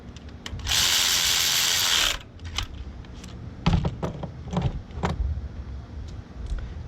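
A hand ratchet tightens a spark plug on a Honda Civic, first giving a loud, steady two-second buzzing burst and then a series of close, sharp clicks and clatters.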